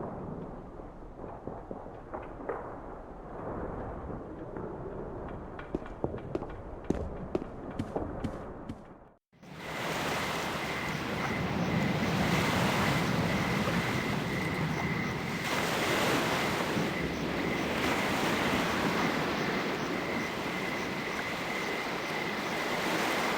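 Ocean surf and wind at the sea in the Nibiru: Age of Secrets game, a steady broadband wash of waves with gusting wind that cuts out briefly partway through and then returns louder and continuous, with no voices.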